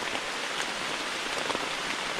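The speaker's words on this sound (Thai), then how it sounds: "ฝนตกยังหนักนะครับ" Heavy rain falls steadily in a deep forest in Karen State, Myanmar, a dense continuous hiss of drops pattering on leaves and surfaces close by, with no voices.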